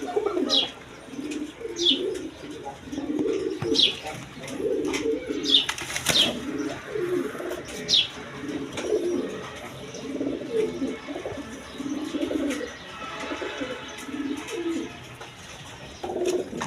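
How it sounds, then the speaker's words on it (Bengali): Large pigeons coo in repeated low, throaty bursts at close range, joined by a few sharp chirps and a brief flutter of wings. "একদম বিগ সাইজের কবুতর দেখেন"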